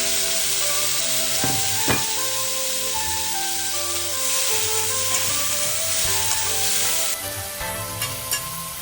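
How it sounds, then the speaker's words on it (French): Tomatoes stir-fry in hot oil in a pan, a loud, dense sizzle broken by scraping and knocking stirring strokes, dropping slightly in intensity near the end. "ensuite fais sauter à son tour les tomates"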